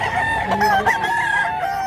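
An old rooster lets out a loud, sustained crow close at hand, a single drawn-out call that fills the whole moment.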